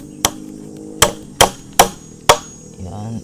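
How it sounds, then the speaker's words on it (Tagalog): Five sharp hammer blows on nails, spaced unevenly and fairly close, with a brief scraping rustle at the end; no talking. "Tapos, martilyo at pako lang."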